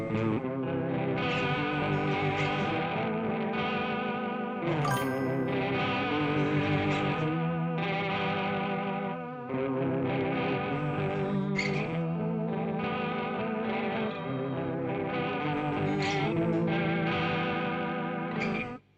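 An electric guitar plays chords and picked notes through a shimmering chorus effect, with a warm, wavering tone that sustains steadily with no voices.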